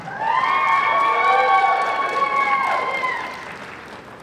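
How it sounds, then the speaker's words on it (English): An audience applauds and cheers for a hand-clap act following a jazz trio at a dance event, a dense steady wash of clapping with bright cheering that holds for about three seconds and then fades. "Please put your hands together for a hand clap"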